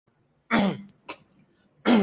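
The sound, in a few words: coughing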